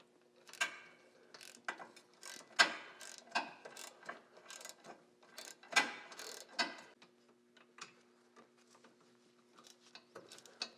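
A 14mm universal socket on a ratchet turns out wheel hub bolts on a 2010-2014 Subaru Outback or Legacy, producing quiet, irregular bursts of metallic clicking and ratcheting with short pauses between them.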